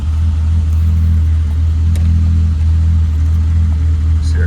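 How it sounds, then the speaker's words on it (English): A 1973 Triumph TR6 engine, cold, cranks and then settles into a steady low idle rumble. The sound is loud and continuous and close to the listener, with no talk over it. "So we'll go ahead and give one pump of the gas, foot off the throttle, and crank."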